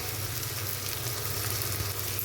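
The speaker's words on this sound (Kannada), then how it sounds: "ಟೊಮೊಟೊ ಹಾಕಿ ಫ್ರೈ ಮಾಡ್ಕೊಳ್ಳೋಣ" Chopped tomato fries in a pan for vegetable vermicelli upma, a dense, even hiss of sizzling oil at moderate volume with no voices.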